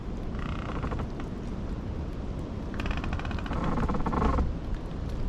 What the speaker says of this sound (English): This is a tree that's rubbing. It's making a lot of noise.